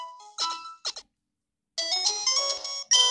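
The Pokémon Center healing jingle from Pokémon Emerald, a bright chiptune chime melody of short bell-like notes, playing clear and close with a brief pause mid-tune before it resumes.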